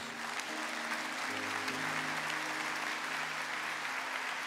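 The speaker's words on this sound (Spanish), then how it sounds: "Si han aprendido, denle un aplauso al Señor Jesús." Church congregation applauding during a sermon, a sustained wash of many hands clapping at moderate volume that carries on evenly for several seconds.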